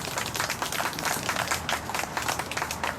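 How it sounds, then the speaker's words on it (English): Crowd applause at an afternoon civic celebration honoring city service workers, a dense, steady patter of many hands clapping that carries evenly through the whole stretch with no voices over it. "Let's give them a round of applause."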